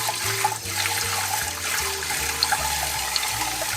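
Rice being rinsed in water, with steady splashing and sloshing, loud and close, continuous across the moment with no talking.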